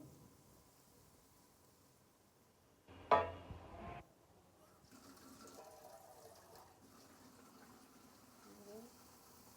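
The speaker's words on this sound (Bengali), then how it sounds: "এখন আমি একটু পরিমাণ পানি দিয়ে দেব এখানে।" A little water is poured into a cooking pan of fish head and spices in a brief splash of about a second. Quieter simmering follows, with faint voices in the background.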